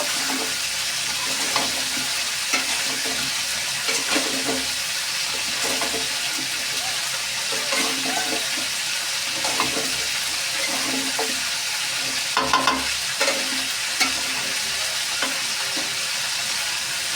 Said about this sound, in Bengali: দিয়ে এখন কুমড়োটার সাথে মশলাটাকে একটু কষিয়ে নিব